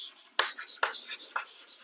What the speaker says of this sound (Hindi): यही जो ऊपर है उसी को मैं लिख दे रहा हूं